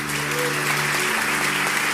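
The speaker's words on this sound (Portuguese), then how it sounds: "Uma salva de palmas para meus pais." A church congregation applauds steadily and loudly, a dense wash of clapping that holds even throughout, with faint voices mixed in.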